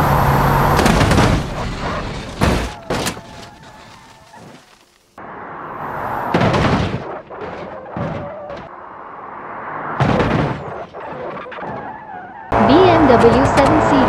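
A Bugatti Chiron crashing in BeamNG Drive, with repeated loud, abrupt impact bursts and crunches separated by quieter stretches of engine and tire noise, some skidding, and a few short pauses of near silence.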